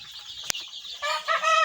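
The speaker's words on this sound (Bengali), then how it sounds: "আজকে দেখাব সোনালি মুরগির দুদিনকার বাচ্চা" Two-day-old Sonali chicken chicks cheep in quick, high, thin peeps, preceded by a single sharp click; the chirping grows busier toward the end.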